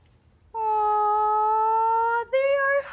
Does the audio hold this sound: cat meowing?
yes